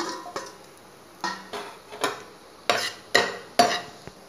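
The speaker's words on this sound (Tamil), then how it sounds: "நம்ம புளியை வந்து இப்படி குட்டி குட்டியாக பிச்சு போட்டு நம்ம வறுத்தரலாம்." Tamarind pieces roasting in oil in a pan, heard as a series of about eight separate scraping and clinking strokes of a spoon against the pan over a faint sizzle, with no talking.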